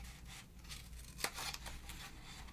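Scissors snipping through 12x12 scrapbook paper, a single sharp cut near the middle over faint rustling and low background hum, close and quiet.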